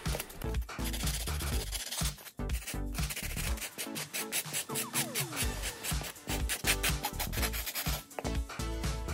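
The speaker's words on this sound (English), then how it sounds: "And I used my sanding stick to smooth off the edges." A sanding stick is rubbed over the edges of an expanded polystyrene foam block for a scratch-built model aircraft fuselage, making repeated rasping strokes that are close and steady.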